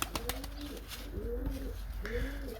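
Pigeons gathered on the ground coo softly and repeatedly in a low, rhythmic pattern, about three rolling calls at close range, with faint scattered knocks and outdoor background around them.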